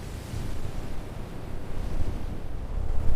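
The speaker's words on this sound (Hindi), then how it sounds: "तेज हवा चलने लगी और बिजली जोर से कड़कने लगी।" Strong, gusting wind from a storm in a Hindi cartoon story, a dense, rushing roar that swells and dips throughout with no clear thunderclap.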